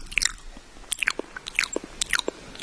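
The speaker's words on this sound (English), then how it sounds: "that's some pretty heavy chew" Heavy, wet chewing and biting of pizza close to the microphone, with irregular crunchy and squishy bursts of chomping and no speech over it.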